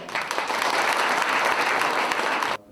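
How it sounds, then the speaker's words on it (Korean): A seated crowd at a residents' autonomy association presidents' inauguration ceremony in Cheonan bursts into loud, sustained applause, a dense even wash of clapping that stops abruptly near the end. "여러분의 큰 박수와 함께 시작하겠습니다."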